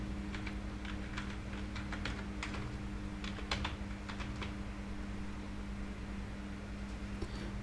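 Keystrokes on a computer keyboard, typing a plugin name into a WordPress admin search box: a light, irregular run of close clicks over a steady low hum, with no talking.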